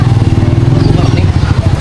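Carlo's motorcycle engine running close by, a loud steady low throb with rapid regular pulsing and some clatter, alone without speech.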